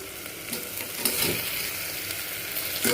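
Chopped tomato sizzles in hot oil with ginger-garlic paste as a spoon stirs it through the pan for a chicken curry, a steady frying crackle with a few scraping stir strokes, close and alone.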